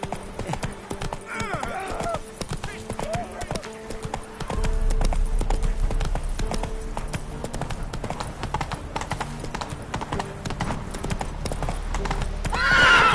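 In The Witcher 3: Wild Hunt, Roach the horse is ridden with loud, close hoofbeats that quicken partway through, and a clear neigh and whinny rise above the rhythmic clip-clop.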